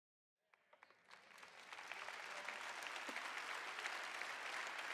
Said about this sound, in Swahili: najua tofauti kati ya makofi ya kweli na makofi ya mchwara mchwara